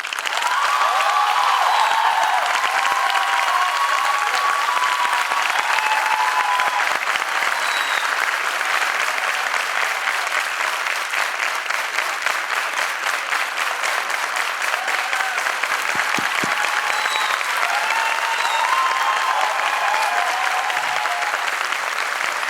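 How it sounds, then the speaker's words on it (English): Sustained audience applause fills a debate competition hall, steady and dense from start to finish with a few faint voices mixed in. "You can clap as hard while sitting also."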